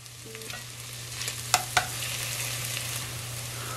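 Two finely chopped garlic cloves sizzle steadily in a pan as part of a vegan lentil chili, a soft continuous fry with a couple of sharp clinks or stirs midway and no talking.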